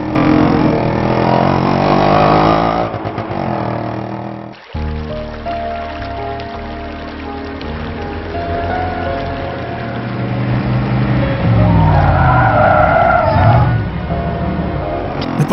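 A car in a Tamil comedy film pulls away fast, a loud engine roar surging and rising under a dense film soundtrack, with a brief dropout partway through.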